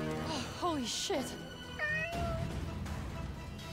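Cat meows in the video game Forspoken, three rising-falling calls in quick succession early on, fairly close and clear, followed by a longer whining tone over a low background rumble.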